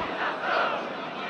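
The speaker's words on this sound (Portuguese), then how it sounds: "É a torcida do Sport fazendo a festa." Sport football fans cheer and chant in a stadium during a Campeonato Pernambucano match against Maguary, a steady, distant crowd roar that swells slightly, with faint commentary beneath.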